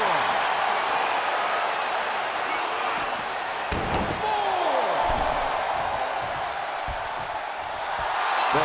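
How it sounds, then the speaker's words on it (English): A wrestling-style video game crowd roars loudly and steadily throughout the match, a dense wash of noise broken by a few sharp thuds and slams. "The sound of this crowd is deafening, and he's asking for more."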